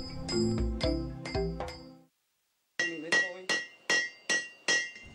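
Hammer blows ring out at a village blacksmith's forge where knives are made: a burst of heavy, clanging strikes, a short pause, then six evenly spaced bright metallic hits with ringing decay.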